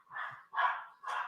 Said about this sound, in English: This little dog.